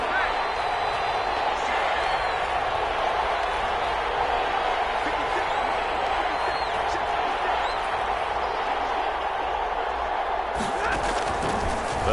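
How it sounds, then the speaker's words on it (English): Stadium crowd noise in an American football video game: a steady, dense roar of cheering and clapping that holds at an even loudness throughout, with a commentator's voice talking over it. "The crowd getting into it as we come up on a big third down"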